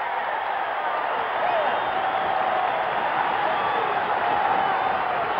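A packed basketball arena crowd of more than 10,000 at a 1972 Milwaukee Bucks home game against the Los Angeles Lakers roars and cheers in a steady, sustained wash of noise that holds for the whole stretch.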